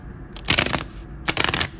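Tarot cards are shuffled in two quick bursts, each a close, crisp flurry of riffling card edges lasting about a quarter second, separated by a short pause with no talking.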